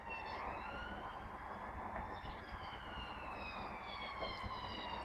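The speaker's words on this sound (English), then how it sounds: "Fucking police car, believe it or not." A police car siren wails somewhere outside, its rising and falling tones steady and fairly faint, carrying over a dull background rumble.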